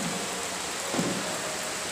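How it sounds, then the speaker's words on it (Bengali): Rain pours down steadily outdoors, a dense, even hiss of drops on surfaces with a brief heavier swell midway, no voices. "আর দেখো কেমন বৃষ্টি চলে এলো"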